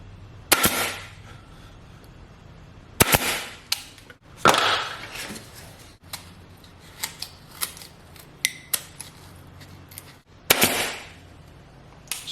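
A Metabo HPT 23 gauge pneumatic pin nailer, running at roughly 90 to 100 psi, fires into RevolutionPly plywood with a handful of sharp, loud, close cracks at irregular intervals, separated by smaller clicks and handling noise.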